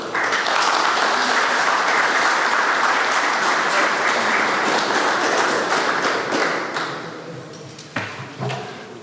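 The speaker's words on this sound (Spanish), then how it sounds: "al señor Carlos Velázquez Salazar, a quien recibimos con un caluroso aplauso." A conference audience claps warmly to welcome a speaker at a public security lecture. The dense, loud clapping holds for about six seconds and then thins out, followed by a couple of soft thumps.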